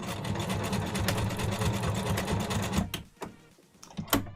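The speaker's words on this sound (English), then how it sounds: "Now I'm going to pivot and sew the long line" A sewing machine stitching a line runs with a fast, even mechanical whir for nearly three seconds, then stops, followed by a brief quiet stretch and a couple of small clicks.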